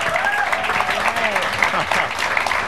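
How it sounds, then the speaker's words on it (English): Loud, steady applause from a studio audience on a late-night talk show set honoring the set designers, with cheering and raised voices mixed into the clapping. "Can we have a round of applause?"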